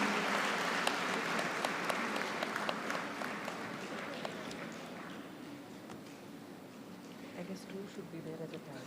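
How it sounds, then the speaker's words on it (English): A crowd applauds at a university convocation in a dense wash of clapping that starts strong and gradually tapers off, with a few sharper claps standing out. "Let's give them a huge round of applause."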